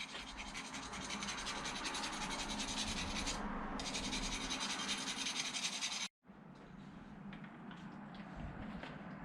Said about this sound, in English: I'm just taking a screwdriver and scraping the big chunks off